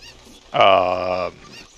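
Cartoonish clucking cry of a cucco chicken in Zelda: Ocarina of Time, a single harmonic squawk lasting under a second, loud and close against faint background.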